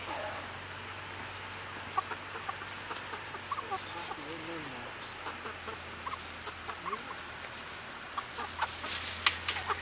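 Chickens cluck softly and intermittently in a farm setting, with a steady low hum underneath and a few sharper bird calls scattered through.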